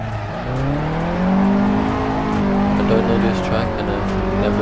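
An Alfa Romeo Giulietta driven in the Assetto Corsa racing game during a time attack: a steady engine drone rising and falling in pitch through gear changes, loud and close, with someone talking over it.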